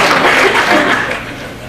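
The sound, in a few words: audience applause at a cannabis legalization forum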